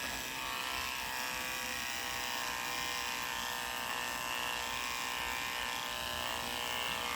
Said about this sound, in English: We can go ahead, shave that off to give a nice, clean look.